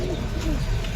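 Close cooing from Madrasi pigeons at a pigeon sale, soft low throaty calls under a busy background with faint voices nearby.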